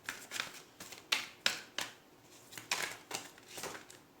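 Tarot cards are shuffled close by in quiet, separate riffling bursts, several crisp papery flurries with short pauses between them and no talking.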